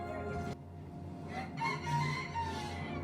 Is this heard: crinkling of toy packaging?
no